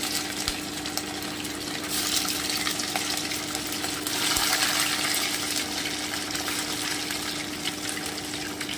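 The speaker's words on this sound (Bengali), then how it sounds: "এবারে আমি চিকেনগুলো ভেজে নিচ্ছি।" Chicken pieces deep frying in hot oil over lowered heat give a steady, dense sizzle and crackle that runs unbroken and close, swelling slightly midway, with no talking.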